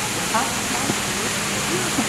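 A waterfall pours steadily into a bear enclosure at a zoo, a broad, even rushing roar with a voice speaking faintly over it.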